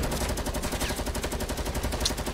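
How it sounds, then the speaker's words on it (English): Loud, rapid automatic gunfire from a nearby gun in a video game, a steady stream of close shots repeating for the whole stretch. "Dude, that gun sounds so loud when you're next to it."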